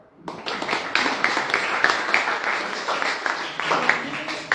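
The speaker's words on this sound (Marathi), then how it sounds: "टाळ्या वाजवा" An audience claps steadily and loudly throughout, a dense broadband patter at an event, continuing for several seconds without clear pauses.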